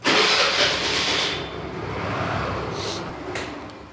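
A TVS Jupiter scooter engine idles steadily while warming up in a ventilated area, a loud, continuous close-up running hum with a brief clatter partway through and no talking.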